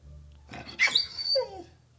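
A dog growls low and close, rising into a short snarling, whiny outburst that tails off, with faint background hum underneath.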